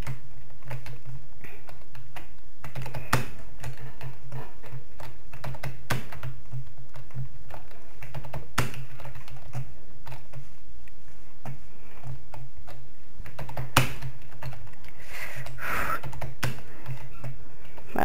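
A computer keyboard is struck hard during a pixel jump-and-run game, with sharp, irregular clicks and heavier key thumps scattered across the stretch, fairly close and alone over a faint hum.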